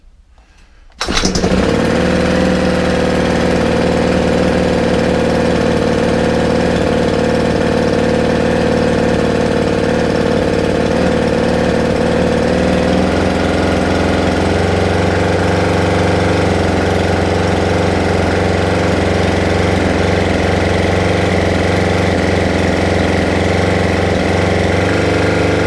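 A Ryobi 4-stroke string trimmer engine catches and then runs continuously, a loud, close, rough idle with a slightly uneven note, its tone shifting a little partway through.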